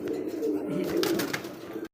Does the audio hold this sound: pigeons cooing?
yes